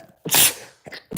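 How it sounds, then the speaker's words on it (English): A single loud sneeze bursts out after a short inhale, followed by a couple of quieter breathy sniffs and exhales, close to the microphone with no talking. "I'm gonna sneeze here."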